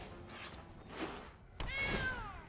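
A cat meows in the card game Magic the Gathering Arena, a short rising-then-falling cry over a busy game soundtrack and effects.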